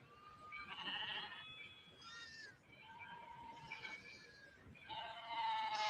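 A goat bleats in a film scene, giving several distinct wavering, drawn-out calls with short pauses between them, fairly faint and heard alone.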